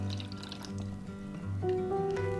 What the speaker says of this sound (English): and I'm gonna pour the juice in here.